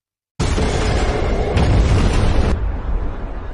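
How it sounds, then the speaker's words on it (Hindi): A huge explosion destroys a building in a film scene: an abrupt, loud broadband blast that rumbles on with dense debris roar, then tails off slightly while still sustained. "तभी अचानक एक जबरदस्त धमाका"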